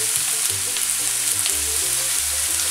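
Spring onion frying in hot extra-virgin olive oil in a wok, a dense, continuous close sizzle heard alone, with low tonal hum or music running underneath.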